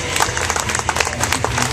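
Dense outdoor applause and crowd noise at a street parade with a stilt walker, many hands clapping at once with voices mingled in, loud and continuous.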